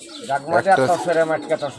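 A female pigeon gives short, close, throaty coos in a quick rhythmic run, with people talking nearby.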